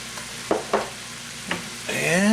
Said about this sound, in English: And we'll give it a good stir.